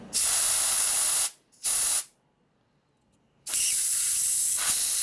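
Loud bursts of compressed air hiss out through a Linkert motorcycle carburetor, two short blasts, a quiet gap, then a longer sustained blast close by.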